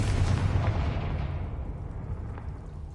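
A Confringo blasting spell explodes in Hogwarts Legacy, a loud, deep booming blast with a rumbling tail that slowly fades over a few seconds, heard alone.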